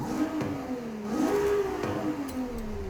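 Turbocharged Ferrari 296 GTB V6 with upgraded exhaust, intake and turbos, driven in the video game Forza Horizon 5, holding a steady engine note that rises and dips as it revs through a smooth pass.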